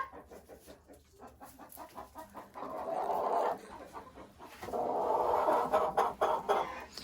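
Broiler chickens kept apart in their own coop pen, clucking and murmuring close by in overlapping bursts that grow busier and louder toward the end, with no talking.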